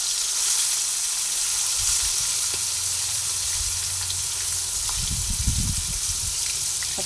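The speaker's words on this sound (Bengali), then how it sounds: "উল্টে পাল্টে ভালো করে মাছগুলোকে ভেজে নিতে হবে" Fish frying in hot oil in a pan, a continuous soft sizzle that swells briefly as the pieces are turned, with low clattering bumps; no talking.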